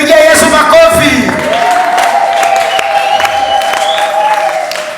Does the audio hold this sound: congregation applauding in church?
yes